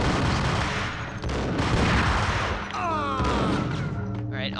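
Gunfire in the Max Payne game: heavy overlapping shots and bursts pound loudly and continuously, with clattering effects throughout.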